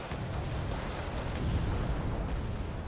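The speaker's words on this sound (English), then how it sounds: "We've got a bombing run coming in." Harrier bombing run in Wargame Red Dragon, heard as a dense, continuous rumbling roar of explosions that stays heavy and loud for the whole stretch, with no distinct separate blasts and no talk.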